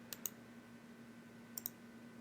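Computer mouse clicks come in two quick pairs, one near the start and one past the middle, sharp and close against a quiet steady hum.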